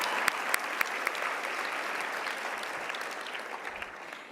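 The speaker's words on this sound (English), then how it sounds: "Let's give Lashina another round of applause" An awards-ceremony audience at a women's hall of fame induction gives a round of applause, a dense, steady wash of many hands clapping alone, with a few sharper nearby claps and a slow fade near the end.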